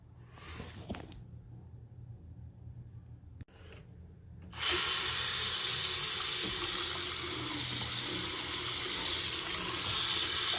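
An old two-handle shower is quiet with a few small clicks, then water suddenly bursts on and pours steadily with a loud, close hiss that runs to the end.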